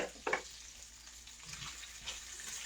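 Sausages browning in a pan, with a soft, steady sizzle and a few brief stirring clicks, heard close with no talk.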